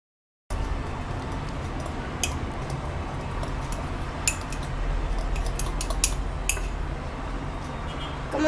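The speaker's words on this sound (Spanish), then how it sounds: "Vamos a echar poco a poco y vamos batiendo" Batter for a microwave pound cake being whisked in a bowl, a steady close scraping whir with light clinks and ticks of the utensil against the bowl, no talk.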